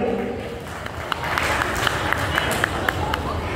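An audience at a stage ceremony applauds Rupam Kashyap, steady dense clapping and crowd noise filling the hall while a voice speaks over it.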